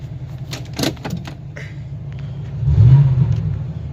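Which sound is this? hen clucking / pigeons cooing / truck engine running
truck engine running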